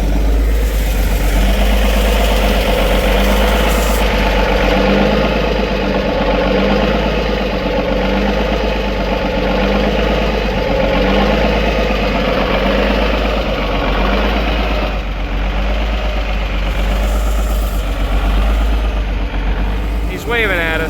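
A high idling engine on the Jolly Green runs steadily for the whole stretch, loud and close with a low droning hum, while people talk over it now and then.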